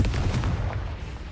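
A Confringo blasting spell detonates in Hogwarts Legacy, a heavy, rumbling explosive boom with dense low-end roar that sustains loudly through the whole moment with no talk over it.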